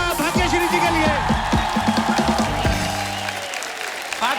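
Applause and cheering from a comedy show studio audience welcoming the actress Bhagyashree, lively clapping mixed with music and a few whoops, fading out toward the end.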